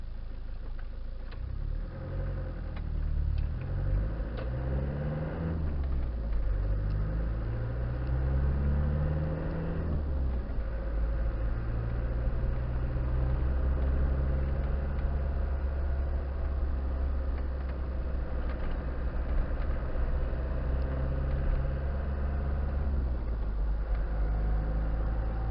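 Land Rover Discovery 300tdi diesel cruising in fourth gear in an 80 km/h zone, a steady low engine drone and road rumble running continuously throughout, fairly loud with slight rises in pitch.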